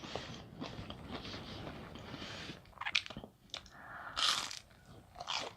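Crispy fried shrimp tempura is bitten and chewed close to the mic, with loud crunches in bursts amid softer, steady chewing and no talking.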